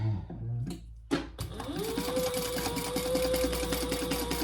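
A sewing machine top stitches around a mini backpack, running in a steady, continuous whir close by after a couple of brief clicks and a short start-up.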